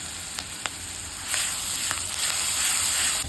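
Shallots, tomato, ginger-garlic paste and curry leaves frying in hot sesame oil in a pan, giving a steady close sizzle with a few sharp spits and crackles, louder after the first second, with no talking.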